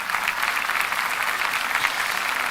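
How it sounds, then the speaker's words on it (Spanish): Steady, dense applause from a church congregation fills the whole stretch at even loudness, with no talk over it. "ese aplauso es para Dios."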